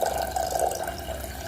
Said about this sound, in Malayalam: ഇതാ ഈ ഒരളവിൽ വെള്ളം ഒഴിച്ചു കൊടുക്കാം.